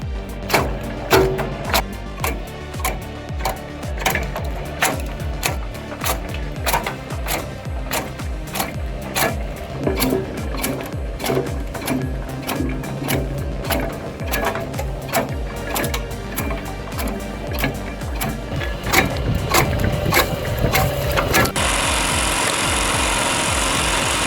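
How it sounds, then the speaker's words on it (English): A homemade mechanical firewood log splitter runs fast and loud, its motor churning under a rapid, steady train of knocking and clacking strikes before a harsher, noisier stretch near the end. "This homemade splitter may look old school, but don't blink, it's fast, steady, and brutally effective."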